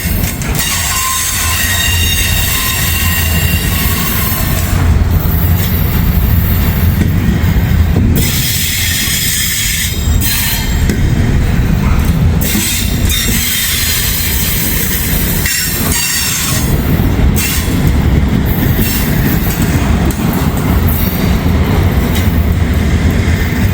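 A massive freight train climbs a steep hill with its DPUs and helper locomotives notched up, producing a loud, continuous roar of engines along with wheel squeal and clattering wagons close by, with no voices.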